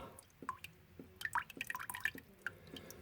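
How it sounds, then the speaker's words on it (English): Water drips from the disconnected pipe of a kitchen mixer tap into a container below, in quiet, irregular close-up plinks and splashes, with several drops in quick succession. "That's dripping on into this."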